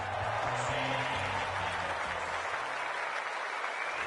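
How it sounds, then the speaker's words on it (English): A large stadium crowd in the AFL 26 football video game roars and applauds in a dense, steady wash of noise that holds without a break, with a low hum beneath. "The crowd already making plenty of noise as the captains come together."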